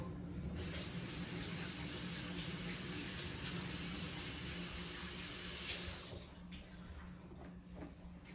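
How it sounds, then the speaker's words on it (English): A kitchen sink tap runs steadily for about six seconds while hands are washed after loading chicken quarters into a pan for the oven, then cuts off, leaving a quieter room hum with no talking. "wash my hands."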